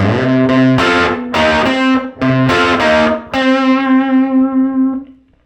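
A loud, distorted electric guitar in standard tuning plays a short slide riff from a song, choppy chords sliding between notes and ending on a ringing sustained chord.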